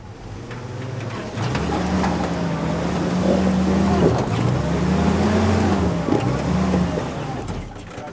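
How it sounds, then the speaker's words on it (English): A 70-year-old Willys flat fender jeep engine drones loudly and steadily in first gear, its low pitch wavering as the jeep is rocked forward over a rough trail. "Go into first gear and rock it forward."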